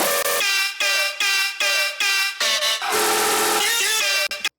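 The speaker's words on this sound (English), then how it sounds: "We also bring back the screamer bass that I talked about before in the breakdown," A dubstep screamer bass in a rock-dubstep breakdown: loud, harmonically rich synth stabs in a stuttering rhythm, bright and blaring like a horn, with short gaps between bursts and a longer sustained phrase near the end.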